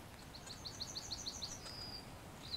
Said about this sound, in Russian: Слышите, как птицы поют